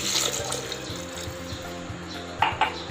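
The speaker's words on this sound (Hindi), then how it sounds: "ये हमारा जूसर पड़ा, इसमें एक गिलास में दूध डाल दी" A glass of milk pours into a juicer jar, a short steady splashing flow of liquid heard up close, ending with a couple of small drips.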